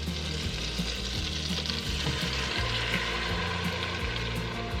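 Butter and minced garlic sizzle steadily in a pasta pot, a continuous close frying hiss with occasional stirring scrapes and no voices.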